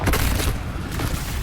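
A Confringo blasting spell explodes in the Hogwarts Legacy video game, a dense, continuous rumbling boom that fills the whole moment at steady loudness.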